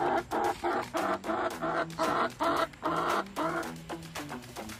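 Chickens in a backyard coop cluck in quick repeated bursts close by, an agitated rhythmic series of fairly quiet calls.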